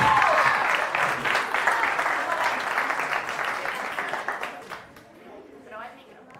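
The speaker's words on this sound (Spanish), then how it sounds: "Un aplauso." An audience at a TED-Ed club talk breaks into dense, loud applause that gradually thins and fades out toward the end.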